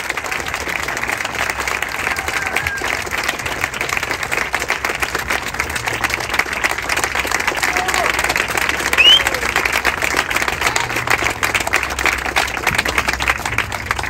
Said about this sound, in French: Est-ce que vous pouvez faire un tonnerre d'applaudissements sur Sandrine Rousseau?